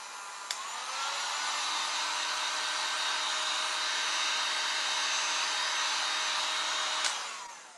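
A heat tool blows steadily to dry wax or paint on a craft piece, a loud continuous whirring hiss with a faint whine that starts abruptly, holds evenly for several seconds, then cuts off, with no talking.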